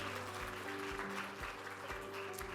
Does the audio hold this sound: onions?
no